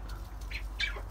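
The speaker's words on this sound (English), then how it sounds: "The chickens are like literally like trying to take the food." Chickens and ducks scramble for thrown food, with a brief flurry of flapping wings and short bird calls close by over a steady background hum.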